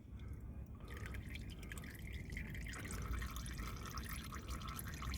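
Used engine oil drips and trickles steadily from a car's oil filter while it drains during an oil and filter change, a continuous close liquid patter with no talk.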